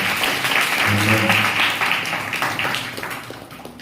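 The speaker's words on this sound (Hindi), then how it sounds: "ताली बजा के परमेश्वर को धन्यवाद दें।" Church congregation clapping hands in worship, a burst of loud applause up close that gradually tapers off, with a brief voice or tone heard under it early on.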